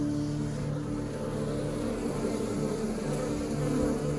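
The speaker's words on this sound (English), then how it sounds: "A bit more frantic, a little bit bigger, more of a wild bee." Darker, larger wild-type bees buzz steadily and close up, making a continuous dense, frantic hum with no talk.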